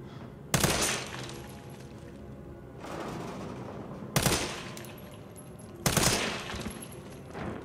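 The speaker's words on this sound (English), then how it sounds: "He was pretty chill with you just shooting him." Three loud, sharp gunshots from Resident Evil 3, spaced a few seconds apart, each a sudden blast with a ringing tail over a low, steady ambient background.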